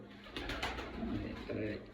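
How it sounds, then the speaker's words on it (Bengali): Pigeons kept free together inside a room give soft, low cooing calls, faint and close, in a short continuous burst. "এই জায়গায় একটা রুমের মধ্যে সবগুলো কবুতর ছাড়া স্বাধীন"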